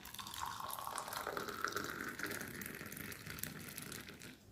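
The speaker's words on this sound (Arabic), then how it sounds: "وهنبدا ان احنا ناخد كوبايه الميه السخنه او المغليه كده اهو" Hot boiled water poured into a cup, a steady close trickle and splash with a faint rising pitch as it fills.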